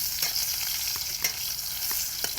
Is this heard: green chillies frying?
yes